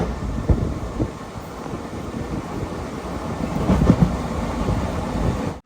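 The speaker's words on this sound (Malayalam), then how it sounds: "ട്രെയിൻ ഇങ്ങനെ ഒറ്റപ്പാലം സ്റ്റേഷനിലേക്ക് എത്തിയിരിക്കുകയാണ്" Tambaram Mangaluru Express rumbling steadily into Ottapalam station, a continuous loud roar with rhythmic clacks of wheels over rail joints and wind buffeting.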